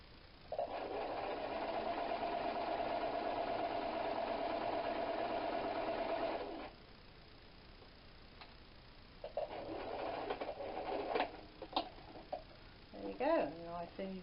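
A sewing machine stitches a seam in ponte jacquard fabric, a steady mechanical whir for about six seconds, then a second shorter run after a pause, followed by a few clicks and handling noises.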